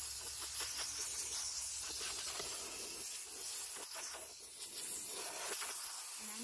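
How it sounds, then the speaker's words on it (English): Steady loud hiss of compressed air blowing from a small compressor nozzle across a drum carder, continuous and close with slight fluctuations. "what I've got is the little air nozzle on the air compressor."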